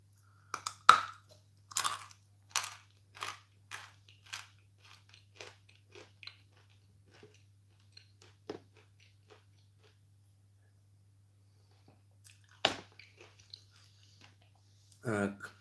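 Crunchy bites of chalk being chewed close up, a burst of loud crisp crunches early on, then fainter chewing clicks, a long near-silent pause and a few final bites over a low steady hum.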